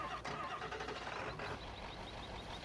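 A Ford engine start sound from a Farming Simulator 2015 game mod, a quiet recorded crank catching into a steady mid-pitched running hum that carries on evenly to the end.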